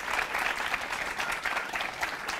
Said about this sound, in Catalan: Un fort aplaudiment per elles. Aplausos.